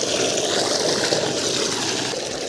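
Steady flow of well water running and splashing close by, a continuous broadband rush with no pauses and no voices.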